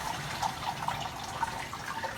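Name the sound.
water poured off washed rice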